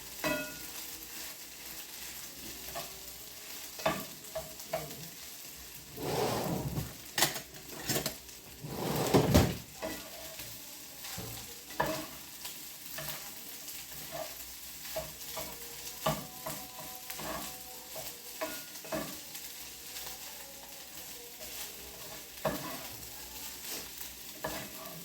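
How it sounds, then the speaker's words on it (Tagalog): Fried rice with vegetables and egg sizzles in a pan while a utensil stirs and scrapes it, with irregular clatters and a couple of louder bursts of tossing. "i-mix na natin siya kasama yung gulay at yung itlog"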